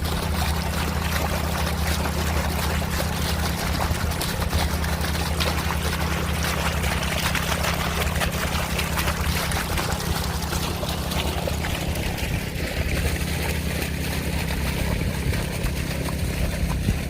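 Water gushing steadily from an underground downspout drain outlet, a loud continuous pouring and splashing rush with a low hum beneath, unbroken for the whole stretch.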